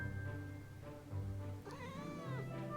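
A tired pet cat gives a drawn-out meow with a rising and falling pitch near the end, close and fairly soft, after a stretch of low background noise.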